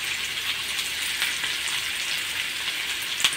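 Chopped onion, capsicum and carrot fry in white oil, a dense steady sizzle that stays loud and close throughout, with one brief stir-like knock near the end.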